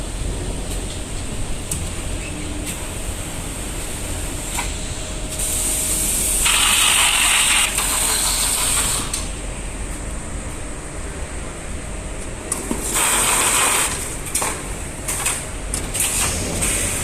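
Automatic H-type carton box sealing machine with auto size adjustment runs continuously, a steady mechanical drone broken by loud hissing, spraying bursts of air and sliding clatters as cartons pass through.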